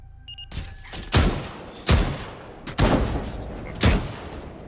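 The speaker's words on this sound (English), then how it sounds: "Yep, there's a turret right there." A mini turret in the video game Lost Skies fires heavy, booming shots at a steady pace, about one per second, each a loud, sharp blast with a short rumbling tail.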